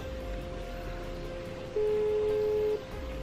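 A steady electronic phone ringback tone in a Poppy Playtime video game hums over faint background noise, swelling louder for about a second before easing back.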